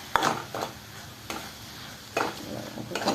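Egg bhurji with onion, tomato and coriander being stir-fried in a pan, with a light constant sizzle broken by occasional scraping stirs of the spatula, heard close and with no voices.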